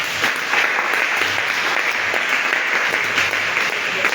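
Church congregation applauding together, a dense, steady wash of clapping hands that fills the space without pause and carries a faint murmur of voices underneath.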